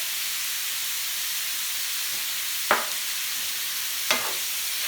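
Meat seasoned with pepper and paprika frying in a pan, a steady soft sizzle with two short scraping stirs partway through, close and fairly quiet.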